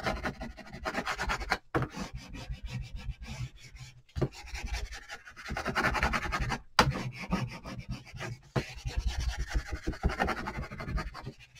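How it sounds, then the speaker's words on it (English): Steady scratchy rubbing of a transfer design being burnished onto a wood round, continuous and close with a few brief pauses, no voices. "we're going to rub our design off right onto our wood round, just like so"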